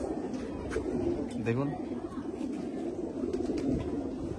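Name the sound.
pigeons cooing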